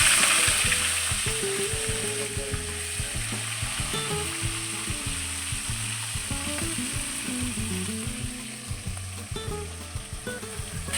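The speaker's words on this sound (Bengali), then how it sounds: "এবারে এই তেলেই আমি চিকেনটাও হালকা করে ভেজে নেব।" Chicken frying lightly in oil in a pan for a curry, a close, steady sizzle with clattering and scraping from stirring, no talk.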